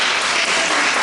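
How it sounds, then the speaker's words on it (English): A large audience at a Westchester Library Association magic show breaks into dense, loud applause, a continuous wash of clapping with no pauses. "Give him a round of applause."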